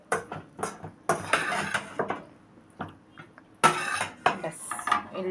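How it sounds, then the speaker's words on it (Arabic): Macaroni being stirred through béchamel sauce in a pan, a spoon scraping and clinking against the metal in irregular bursts with short pauses, close and fairly loud, no talking. "ونقلبها عشان كلها تبقى واخدة من البشاميل كده وتبقى حلوة"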